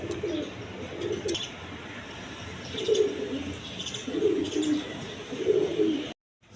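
High-flying Giribaj pigeons coo nearby in a series of low, rolling calls that repeat every second or so over faint background noise, then stop abruptly.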